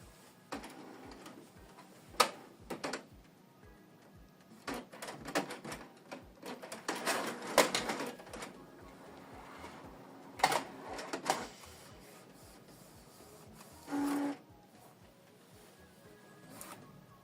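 A quiet Canon Maxify GX2050 inkjet printer prints a photo with steady ticking, intermittent whirring bursts and clicks, then a short motor hum near the end; no talking.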